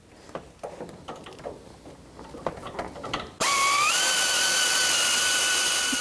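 Bolt on a 2006–2012 Toyota RAV4 2.4L being snugged with a 12 mm socket during crankshaft position sensor replacement: scattered clicks and ratcheting taps, then a sudden loud, steady whirring power-tool drone that holds to the end.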